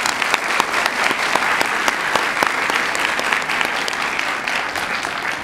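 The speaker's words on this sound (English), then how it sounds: "Let's give a nice round of applause for all the supporters." An audience claps steadily in a sustained round of applause for project supporters at a community gathering, with many overlapping hand claps heard close and alone.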